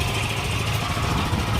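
An old John Deere tractor engine running steadily outdoors, a continuous low rumbling drone, loud and close with no pauses.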